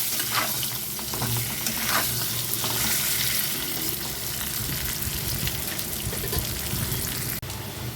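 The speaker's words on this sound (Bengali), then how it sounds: "আলুগুলোকে আমি প্রথমে একটু ভেজে নেব" Half-boiled potatoes fry in oil with a dense, loud, steady sizzle and occasional stirring scrapes, close and continuous for the whole stretch without talk.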